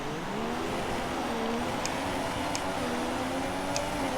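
A pack of Formula 1 cars pulls away from a standing race start in F1 2016, engine notes rising and overlapping in a steady, loud roar with faint higher whines, continuous throughout.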